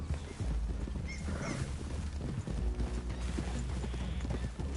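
Horses' hooves clip-clop steadily on the ground in a rapid, uneven rhythm, close and clear against a low rumbling background, with a faint whinny-like sound early on.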